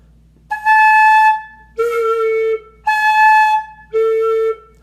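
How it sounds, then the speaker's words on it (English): Four breathy, hollow whistling tones from a flute head joint played against the back of the hand, alternating between a higher and lower pitch, each held about a second with short gaps. "You can also make different sounds in the head joint using your hand or fingers"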